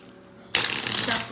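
Tarot cards shuffled in a single quick burst of riffling flutter, close and fairly loud after a brief quiet moment, with no talk.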